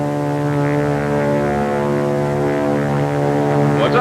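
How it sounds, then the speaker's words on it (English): A propeller fighter aircraft, a P-40 or a Zero, flies past with a loud, steady droning engine hum that holds throughout with no voices. "It's a plane, all right. But what sort of a plane?"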